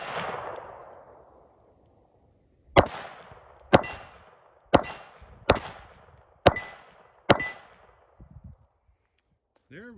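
Six sharp handgun shots from a Beretta 81 firing hand-loaded .32 ACP rounds, each followed by a ringing clang of steel targets, spaced about a second apart; a brief murmur of talk trails after.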